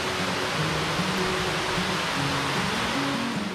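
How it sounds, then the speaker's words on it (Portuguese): The Cachoeira do Poço waterfall at Ecoparque Sperry in Canela roars close by as a steady, loud rush of falling water with no voices. "Agora a gente chegou então aqui na cachoeira do poço."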